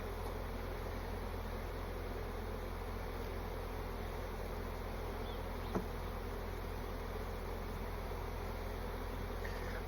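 A recovered honeybee swarm hums densely and continuously at its hive in a French apiary, a close, steady buzz of many bees with no voices.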